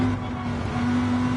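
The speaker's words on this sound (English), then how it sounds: "Doing a dance on the accelerator there" Race car engine in Gran Turismo 7, held at a steady droning pitch while the accelerator is worked during a qualifying lap, with a continuous even whine and no talk.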